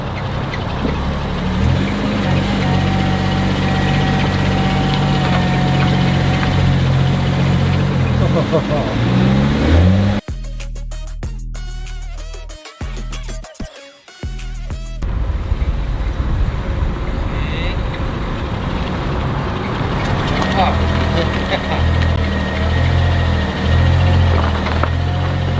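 A BMW engine idles steadily, then revs and pulls away, with a short broken-up stretch in the middle and a voice talking over the engine throughout.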